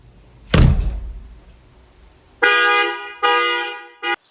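A sharp pickup truck door slam, then after a pause the Toyota Tacoma's alarm horn blares in three bursts, two long honks and a short final toot, loud and close.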